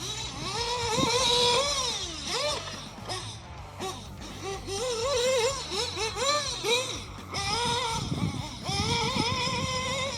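An off-road RC race car with a ProTech motor whines and revs in rapid rising and falling sweeps as it drives over bumps, loud and close, its pitch leaping with each burst of throttle.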